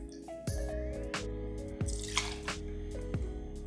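Gin poured into a measuring jigger for a gin gimlet, a close trickle with repeated soft drips and splashes as liquid flows in short bursts, quiet and unaccompanied by talk.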